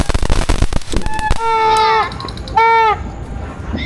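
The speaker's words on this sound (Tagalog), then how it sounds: "putukan." New Year's Eve fireworks and firecrackers pop in a rapid cluster of sharp bangs, followed by two long whistling rockets rising one after another, fairly close and loud.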